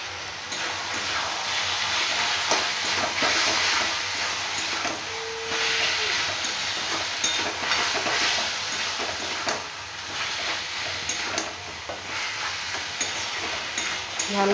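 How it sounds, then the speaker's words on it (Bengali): Bengali meat masala with red chilli and Kashmiri chilli powder being stir-fried in oil, a steady loud sizzle and hiss with scraping stir strokes running throughout, no talking. "ভালো করে কষিয়ে নেব"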